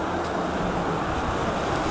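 Ocean waves wash near the shore at Dakar, a steady broadband surf roar with wind noise, continuous and fairly loud throughout with no voices.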